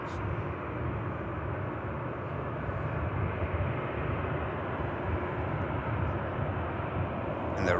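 A Ryanair Boeing 737 MAX 8200 jet on its departure takeoff roll at Manchester Airport gives a steady, broad engine roar, distant but constant throughout, with no voices over it.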